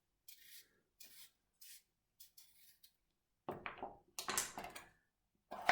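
A butternut squash is peeled in short, separate scraping strokes, faint at first, then louder and closer rasping rubs toward the end, with no talking.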